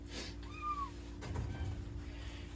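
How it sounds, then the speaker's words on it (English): Hungry house cats meow faintly in the background, one clear rising-falling cry followed by softer calls, under a low steady hum with no one talking. "If you hear kitties complaining in the background, that's what it is. They're hungry."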